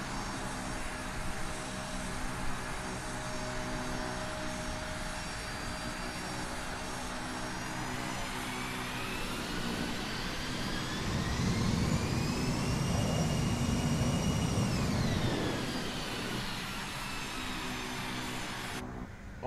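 Fenix A320 airliner engines in a flight simulator hum steadily throughout, with whining tones that rise and hold as thrust increases mid-clip before easing back down, loud and continuous with no talking.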